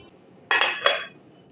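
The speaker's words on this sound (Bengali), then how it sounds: "আমি জাস্ট ঢাকনাটা তুলে নিলাম দেখুন" A lid is lifted off a covered pot of cake batter with sugar melting inside, giving two quick, close metallic clanks in a quiet kitchen.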